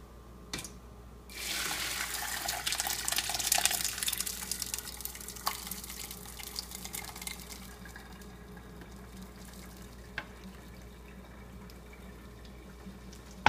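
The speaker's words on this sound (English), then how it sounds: "our mash has reached 170 degrees, so now we'll strain it" Hot all-grain IPA beer mash at 170 degrees poured through a strainer into a pot: a steady close pour of liquid that swells after the first second, runs loud for several seconds, then thins to a softer trickle with occasional drips.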